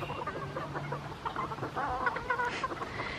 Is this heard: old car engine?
no